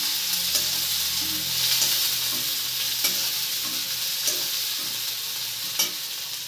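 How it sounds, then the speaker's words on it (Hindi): Onions and green chillies fry in a pan with a loud, continuous sizzle, punctuated by several sharp clicks of stirring and scraping at irregular intervals, with no voices. "इसमें मैंने डाल दिए हैं प्याज और हरी मिर्च। अब इन्हें मैं भून रही हूँ।"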